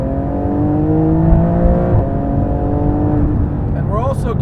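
A Porsche 991 GT2 RS with a PDK gearbox pulls hard from inside the car, its engine note climbing steadily before a quick upshift into fourth gear, then building again; the engine is loud and close throughout.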